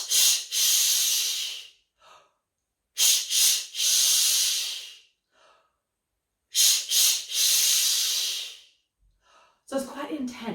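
Three bursts of rapid, forceful exhales from a breathing exercise, each a quick run of sharp, hissing breaths, separated by short pauses, close and fairly loud.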